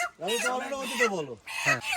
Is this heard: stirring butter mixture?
no